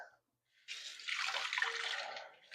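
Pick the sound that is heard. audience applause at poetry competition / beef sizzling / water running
water running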